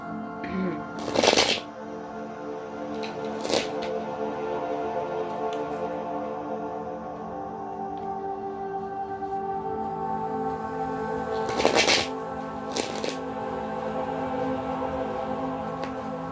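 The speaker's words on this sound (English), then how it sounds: "So now I'm going to shuffle. I think I'm going to shuffle 7 times and cut 4." Tarot cards are riffled in quick bursts, several shuffles spaced apart, over a steady background hum and faint ambient sound.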